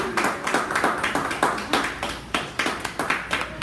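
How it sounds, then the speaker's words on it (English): A small audience at a Toastmasters meeting claps for a speaker, a close, fairly rhythmic series of distinct hand claps sustained throughout. "Let's give a good round of applause for Wayne Young."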